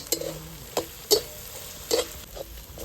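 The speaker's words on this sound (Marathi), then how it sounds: "टमॅटो कांदा टमाटो हे आपले चांगलं परतून झालेले आता त्याच्यात आले लसणाची पेस्ट टाकून घेऊ" Onion and tomato with ginger-garlic paste sauté in a pan for a stuffed brinjal masala curry, a soft sizzle broken by several distinct spoon scrapes and taps against the pan, close and without talk.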